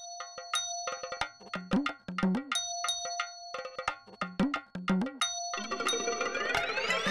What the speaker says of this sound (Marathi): अगं फोन उचल फोन उचल